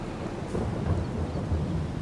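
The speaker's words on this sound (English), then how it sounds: "Obviously it's raining at the moment," Steady rain and rolling thunder rumble as weather effects in the farming video game Farming Simulator 22, a dense low roar with no talking over it.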